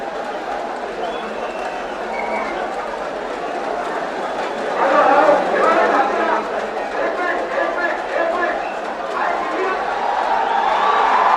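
A large, loud crowd of protesters packs Badlapur railway station, a dense roar of many voices and chatter that rises midway, with a reporter speaking over the din throughout.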